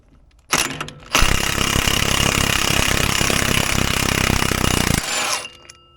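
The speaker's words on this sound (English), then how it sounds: "We're going to use the impact just to tighten this outer one onto the inner one." Pneumatic impact wrench working the nuts of bolt-on tractor wheel spacers, one loud sustained hammering burst of several seconds after a short preliminary rattle, close to the microphone with no talking.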